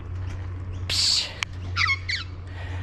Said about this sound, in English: So this magpie is swooping me.